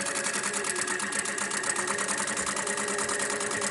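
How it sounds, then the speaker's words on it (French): A sewing machine runs steadily, stitching the cloth body of a rag doll, a fast even mechanical rattle held close and continuous with no talk. "je vais finir de coudre cette partie-ci"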